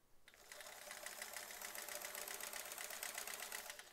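A sewing machine runs steadily while it quilts stitching on a jellyfish embroidery, its rapid even needle rhythm holding throughout at moderate distance.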